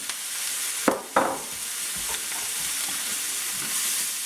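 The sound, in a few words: onion and mushroom frying in a pan on medium-high heat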